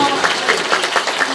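Applause from a crowd at a political party ward event, a steady loud patter of many clapping hands with a faint voice over it.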